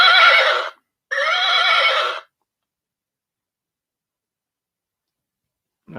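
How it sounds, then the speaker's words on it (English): A toy horse neighs electronically in two loud, bright whinnying bursts close by, separated by a brief gap and followed by silence. "Yeah, it just neighs."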